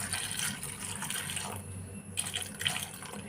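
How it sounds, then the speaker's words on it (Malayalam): Hot water poured over cherries being prepared for pickle, a steady close splashing stream of liquid that fades briefly, then returns with small splashes, no talk. "ഇതിലേക്ക് ഞാൻ ചൂടുവെള്ളം ഒഴിച്ച് കൊടുക്കുന്നുണ്ട്."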